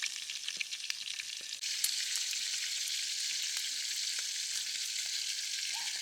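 Food frying in hot cooking oil at a riverside campsite, a steady bright sizzle with scattered pops and spatters, growing louder and denser after the first second and holding level to the end.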